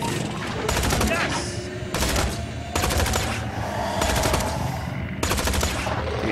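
Gunfire in the Tales from the Borderlands video game: several sharp, rapid bursts of automatic shots separated by brief pauses, loud against background game sound.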